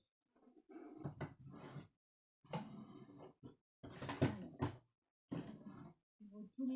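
Drawers slide open and shut in a craft workspace during a search, giving several close, muffled wooden rumbles and knocks in irregular bursts separated by brief pauses.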